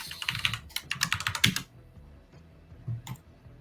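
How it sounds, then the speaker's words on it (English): Quick bursts of clicky keystrokes on a computer keyboard, dense at first, then a pause and a few scattered taps, fairly quiet and with no talking. "I love your keyboard. I love that mechanical sound."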